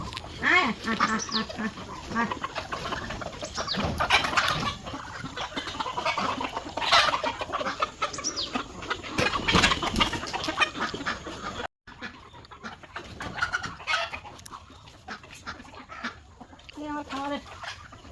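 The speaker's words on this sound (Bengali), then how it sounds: "এখন আমি মুরগিকে খাবার দিলাম দুপুরবেলা যদিও দিছি আবার কিছু দিলাম" Farm chickens cluck and squawk busily near at hand as they are given an afternoon feed, with duck-like calls mixed in, a brief break, then renewed clucking and cackling.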